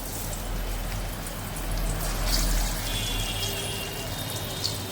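Ground jackfruit seed paste goes into hot oil, and a steady hiss and sputter of frying runs at moderate level for a few seconds.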